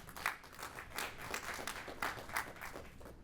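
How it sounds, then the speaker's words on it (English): Audience at a venture capital panel event on AI investment applauds a speaker being introduced, a steady, moderately distant patter of clapping with no talk. "So let's hear from Michael. Applause."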